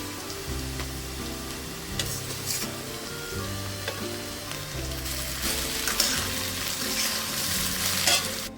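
Nuts frying in ghee and oil in a home kitchen pan, a steady sizzle with occasional stirring scrapes and crackles, close and continuous with no voices.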